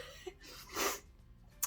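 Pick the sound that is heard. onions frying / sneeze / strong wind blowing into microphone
sneeze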